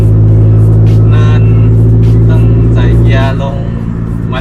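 Remapped 2018 Isuzu 1.9 DDI Blue Power pickup carrying about three tons uphill: a loud, steady diesel drone at high revs under ongoing conversation, easing slightly near the end.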